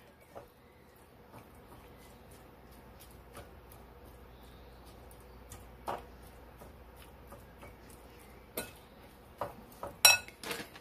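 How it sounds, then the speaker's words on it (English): Stuffed pepper filling being mixed in a bowl, quiet scraping with scattered clinks of a utensil against the dish that grow louder and more frequent toward the end. "now you're going to mix that all together"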